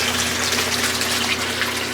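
A pump filtering the water in a turtle tank makes a steady, continuous rush of flowing water with no talking over it.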